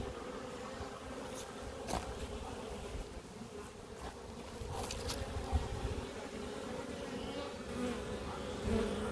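Honeybees buzzing around brood-free colonies on a December day, a steady close insect drone with individual bees zipping past the hive, no voices.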